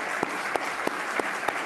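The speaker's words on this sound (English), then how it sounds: "So just give a round of applause for all those artists here." An audience at an emerging artists awards meeting in San Jose applauds the artists, a dense continuous clapping with a few sharper claps standing out at a steady pulse.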